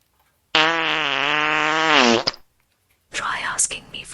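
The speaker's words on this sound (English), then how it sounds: "Here comes an angry fart." An Alexa smart speaker plays an angry fart sound effect: a long, loud, buzzing tone that rises and wavers for about two seconds, then a brief pause before a synthetic voice speaks.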